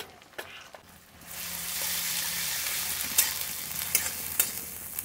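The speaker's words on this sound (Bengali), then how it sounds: "পেঁয়াজের সাথে আমি একটু কাশ্মীরি লঙ্কা ভেজে দেবো" Onions and Kashmiri chili fry in hot oil, a steady loud sizzle that swells as they hit the pan, with a few soft stirring knocks, no speech.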